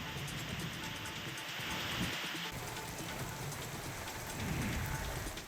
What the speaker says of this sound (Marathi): रायगड जिल्ह्यामध्ये पुन्हा एकदा पावसानं चांगलीच हजेरी लावली.